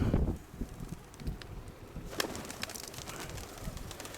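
Pigeons flutter and coo faintly amid soft wind noise, with occasional wing flaps and rustling nearby.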